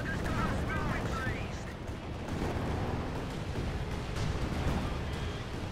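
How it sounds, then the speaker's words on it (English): Landmattress rocket barrage slamming into a Panzer IV in Company of Heroes 2, a dense sustained rumble of overlapping blasts and gunfire at steady loudness, with a battle din throughout. "Landmasters barrage off against the Panzer IV."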